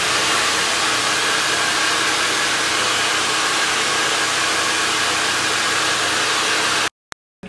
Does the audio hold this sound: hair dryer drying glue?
yes